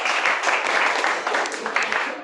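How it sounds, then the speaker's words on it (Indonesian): Classroom audience clapping for a presenting student group, a dense, steady patter of hands at moderate distance, brief and even throughout. "kita kasih tepuk tangan sekali lagi untuk kelompok keempat"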